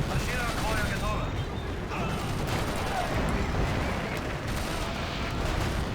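Heavy tanks fire in a dense battle in Axis & Allies (2004) during the fall of Berlin, a constant loud roar of overlapping cannon blasts and gunfire with no break across the whole stretch.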